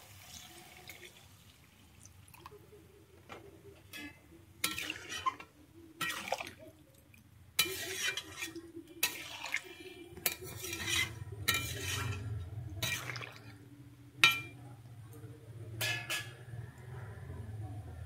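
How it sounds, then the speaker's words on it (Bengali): Water is poured into a pot of Bengali vegetarian giant taro root (sola kochu) curry, with scattered clinks of a metal spoon against the pan and stirring noises, followed by a steady low liquid rush. "এর মধ্যে আমি দিয়ে দিচ্ছি এবারে জল"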